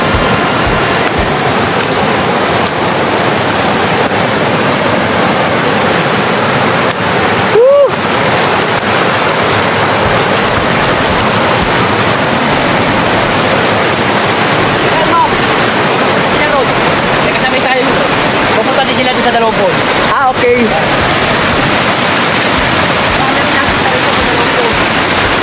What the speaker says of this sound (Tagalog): tumatawid kami sa ilog